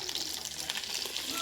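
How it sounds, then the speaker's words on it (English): Steady bright sizzle of onion, celery, bell pepper and garlic frying in hot butter, a continuous crackling hiss close to the pan with faint stirring. "Yeah, love that sizzle."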